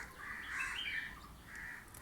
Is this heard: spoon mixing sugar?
no